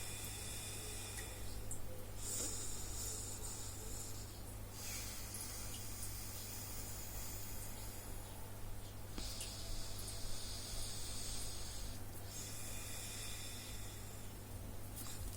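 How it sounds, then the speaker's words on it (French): Slow, deliberate breaths drawn through one nostril at a time during an alternate nostril breathing exercise, forming long airy inhales and exhales that repeat in a steady rhythm, close and soft, with no talking. "Tu inspires par la droite, tu bloques ta narine et tu expires par la gauche."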